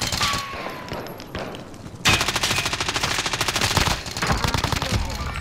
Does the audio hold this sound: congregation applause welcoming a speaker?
no